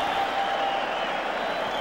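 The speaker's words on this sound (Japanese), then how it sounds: "ご覧のような大歓声で埋まっています" A crowd at a boxing match in Tijuana's Auditorio Municipal roars in a steady, dense wash of cheering and clapping, heard from a distance and filling the venue. Faint commentary can be heard underneath.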